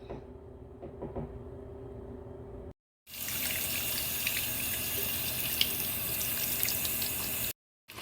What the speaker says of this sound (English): Always rinse your lobster tails and any seafood with cold water.